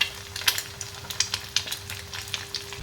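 Eggs frying in oil in a pan with chili powder sprinkled over them: a faint, steady sizzle with soft clicks and scrapes of stirring, no voices.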